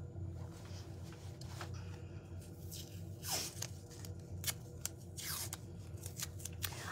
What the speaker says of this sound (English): And I'm gonna tape it down.